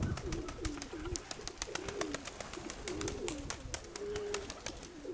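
Pigeons coo in low, repeated rolling calls close by, overlapping with sharp clicking and tapping noises throughout.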